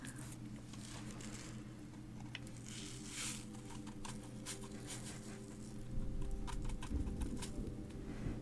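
A soft pattering rattle of small plant seeds spilling out, light scattered ticks over a low hum, briefly louder near the end.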